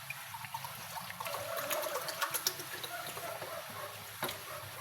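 Water pours into a glass while someone measures how many glassfuls fill a one-litre container, giving a steady close trickle with small splashes and dribbles and no talk.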